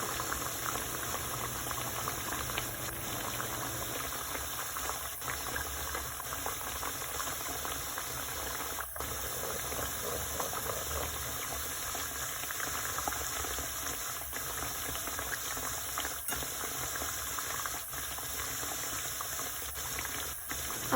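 Food fries in oil in a pan during the making of a traditional Sylheti recipe, giving a dense, even bubbling hiss that runs steadily with a few faint clicks, close and without speech.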